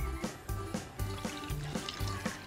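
Cold water is poured into a ground tilapia and malunggay hotdog mixture, a close liquid splashing and filling sound heard over rhythmic background music.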